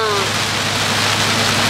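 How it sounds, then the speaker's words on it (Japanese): Heavy water spray from an automatic car wash drums steadily over the car body, heard from inside as a dense, continuous hiss and patter close around the cabin, with faint voices underneath. "洗車機の中です。"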